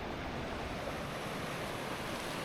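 River whitewater pouring over a huge granite slab in New Brunswick, a steady, dense roar of rushing water close by with no pauses.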